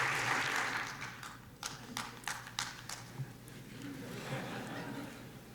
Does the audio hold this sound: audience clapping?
yes